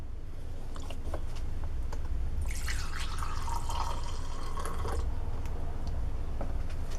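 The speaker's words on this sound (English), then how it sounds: "My next thing to do is put another 4 ounces in for the Fabuloso." Liquid Fabuloso cleaner is poured into a DIY heavy-duty degreaser mix, a splashing pour lasting about two and a half seconds mid-clip over a steady low background hum.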